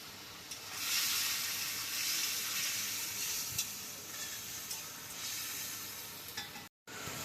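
Cumin and coriander paste fries in a pan of spice masala, a continuous soft sizzle and hiss with occasional stirring scrapes, fairly quiet with a brief dropout near the end.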